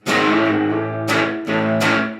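Distorted electric guitar chords ring out, with pitch sliding from flat into three sharp attacks in quick succession, loud and upfront with no voices.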